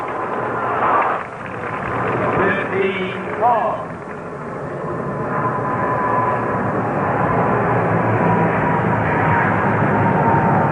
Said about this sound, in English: Getting a lot of aeronautical noise